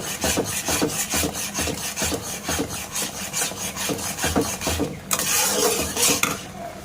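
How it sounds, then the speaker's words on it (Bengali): A spoon scrapes and stirs roasted semolina in a pan in quick repeated rasping strokes, close and continuous, with a brief louder scrape near the end. "দিয়ে ভালো করে নাড়াচাড়া করে নেব যেন দলাটা না পেকে যায়"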